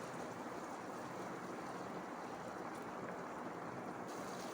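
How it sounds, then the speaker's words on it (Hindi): Ginger garlic paste fries in ghee in a pan, giving a soft, steady, even sizzle with no break and no voices. "1 से 2 मिनट के लिए हम इसको फ्राई कर लेंगे।"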